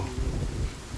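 Rain falling with thunder, a dense wash of rain over a deep low rumble filling one short second, with no voices.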